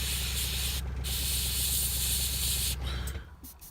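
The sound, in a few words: airbrush spraying paint on Ogryn bust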